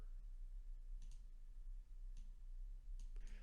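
Mouse clicks in graphic design software, a few sharp, faint clicks spaced apart against a quiet background hum.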